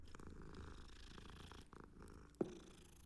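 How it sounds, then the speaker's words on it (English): Soft, steady purring from a cat being petted in the video game Hogwarts Legacy, a continuous low rumble running throughout at moderate level, with one brief sharp click near the end. "I accidentally pet the cat."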